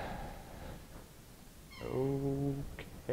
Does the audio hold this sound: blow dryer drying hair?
no